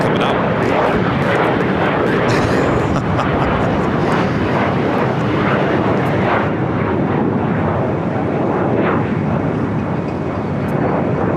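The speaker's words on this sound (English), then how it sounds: "Japan Airlines, the 777 starting to taxi. That should be a south side and takeoff on 25 right coming up." A Japan Airlines Boeing 777 taxis for takeoff at Los Angeles airport, a loud continuous jet engine roar and rumble heard at close range, with talk mixed in.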